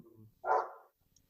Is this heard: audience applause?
no